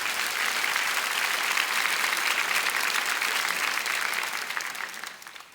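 A large congregation at a Daniel prayer meeting gives a round of applause offering glory to God, thick continuous clapping that holds steady, then thins and fades toward the end.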